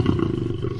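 A lion at a zoo in Damietta gives a deep, loud, sustained roar close by, a rumbling growl with no other sounds over it.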